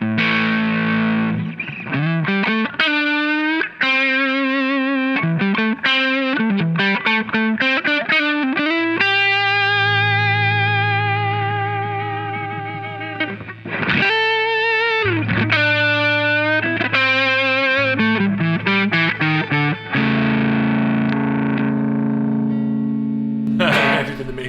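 An Eastman electric guitar runs through an effects pedal, giving sustained, distorted and reverberant notes and chords that bend and slide in flowing phrases, loud and close, with no speech.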